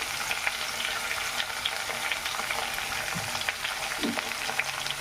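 Eggplant pieces frying in oil with curry leaves, a dense continuous sizzle close by with a few soft stirring knocks, no talking.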